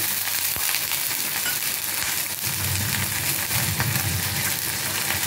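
Ginger paste and turmeric powder fry with a little water in a pan, giving a dense, loud, continuous sizzle with occasional crackles and stirring, close up, with no talking.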